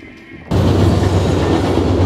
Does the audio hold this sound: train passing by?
yes